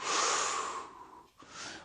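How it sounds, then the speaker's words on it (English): A long, steady exhale during a Pilates exercise, breathy and close, fading briefly before a softer breath resumes. "So we retract and then we exhale."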